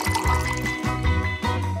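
Water pours into a glass in short bursts, with a bright, gurgling fill sound and faint clinks, close and fairly loud, with no talking.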